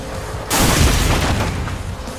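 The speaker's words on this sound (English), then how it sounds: "The density of explosions is just so high." Dense, continuous barrage of explosions in the racing game Split/Second, booming in abruptly after a brief quieter moment and rumbling on loudly with overlapping blasts.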